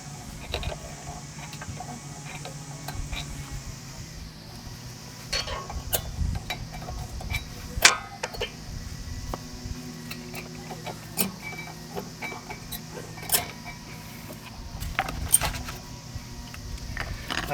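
Old brake pads being gently pried out of a 2020 Mazda CX9 front brake caliper with the pistons pushed back, giving sparse metallic clicks, scrapes and rattles over a quiet workshop background.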